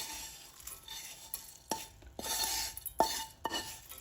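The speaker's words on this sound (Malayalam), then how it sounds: "നമ്മളിങ്ങനെ ഇങ്ങനെ ഇളക്കുമ്പോൾ അറിയാം നന്നായിട്ട് ക്രിസ്പി ആയിട്ട് വരുന്ന പോലെ തോന്നും" Crispy dried prawns frying in a pan while being stirred, with repeated sharp scrapes and taps of a utensil against the pan over a low sizzle, close up and without speech.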